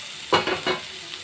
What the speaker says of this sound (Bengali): ডিমটা দিয়ে ভালো করে ভাজা করা হয়েছে